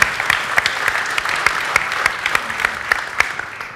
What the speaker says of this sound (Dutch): applaus voor LeaseWeb